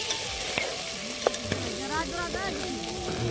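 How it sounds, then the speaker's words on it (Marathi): Mutton fries in a hot pan in a village kitchen while a spoon stirs it now and then, giving a steady sizzle broken by a few scraping knocks, with faint voices and background sounds underneath. "तर चला आपण आता मध्ये मध्ये हलवत राहू."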